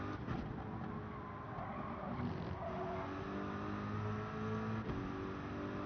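A race car engine in the video game Gran Turismo 7 hums and whines steadily at moderate volume, with shifting engine tones and no talk.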